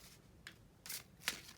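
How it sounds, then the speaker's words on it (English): Playing cards shuffled by hand at a home setup, with a few brief, soft riffling bursts separated by quiet pauses, heard up close and alone. "I'm going to shuffle this deck up"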